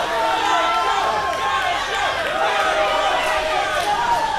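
A wrestling crowd at an independent show cheers and chants in a loud, continuous roar with rising swells, while a commentator talks over it.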